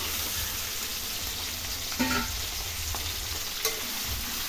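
Country chicken pieces fry with onions and green chillies in a pan, a steady broad sizzle with a couple of brief clinks from stirring.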